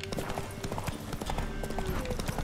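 Horse hooves clip-clopping in The Witcher 3 video game, a busy run of sharp, close hoof strikes in quick uneven rhythm over a backdrop of game noise.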